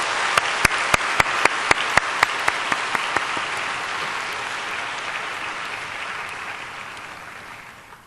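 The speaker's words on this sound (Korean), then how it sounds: "그 마음으로 박수로 환영해 주시면 감사하겠습니다." A church congregation in Busan applauds to welcome the pastor to the pulpit, with a few sharp, loud single claps standing out early over a broad wash of clapping that slowly thins and fades toward the end.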